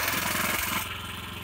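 A small MTZ walk-behind tractor engine pulling a trailer runs with a steady mid-pitched throb up close, dropping slightly in loudness partway through.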